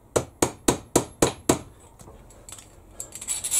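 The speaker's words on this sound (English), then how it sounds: "Just my little apprentice hammer." Six sharp, evenly spaced taps of a small hammer on metal ring out in quick succession, followed by quieter clinks and faint scraping.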